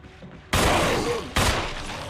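Two sharp, loud gunshots from the Resident Evil remake, each a sudden close blast followed by a ringing echoing tail, spaced about a second apart.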